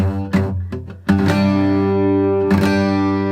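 A guitar chord is strummed a few times, one string deadened by a flattened fretting finger, sounding dull, with sharp attacks and a buzzy, uneven ring.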